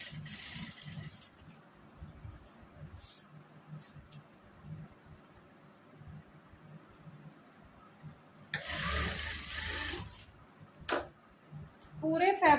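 A sewing machine stitching through folded fabric for an Afghani salwar, short mechanical runs of whirring stitches between pauses, with someone talking over much of it.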